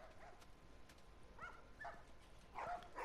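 Dogs bark and yip in The Last of Us video game, a few quiet, somewhat distant barks spread over a few seconds against low background noise.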